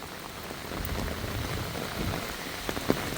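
Steady rain pours down on surfaces around a rural Thai home, a dense, even hiss close by with a few louder drips and splashes near the end and no voices.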